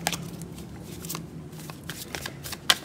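A deck of cards is shuffled close up, with quick riffling bursts and soft flicks, ending in a sharp snap.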